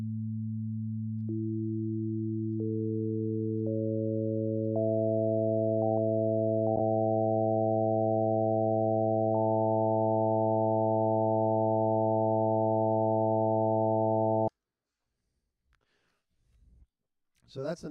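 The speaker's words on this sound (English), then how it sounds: "So that's the natural overtone series." Pure synthesized tones stack one by one into a rising series of overtones above a low fundamental, sustaining steadily before cutting off abruptly.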